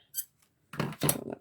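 Scissors cutting paper while making a punch art card: a brief soft snip, a pause, then a couple of quick close cuts, quiet and near.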